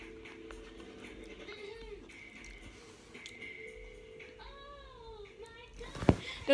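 A cat meows several times in drawn-out, wavering cries close by, with quiet background and a sharp knock near the end.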